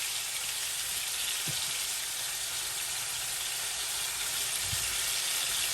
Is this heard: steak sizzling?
yes